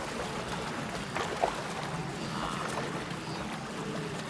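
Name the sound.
gentle shallow river water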